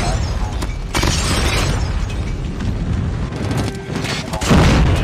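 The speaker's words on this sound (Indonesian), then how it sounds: "Waduh ada bom" A loud, sustained bomb explosion in the shooter Call of Duty, with a deep rumbling roar filling most of the clip and a heavier boom swelling near the end.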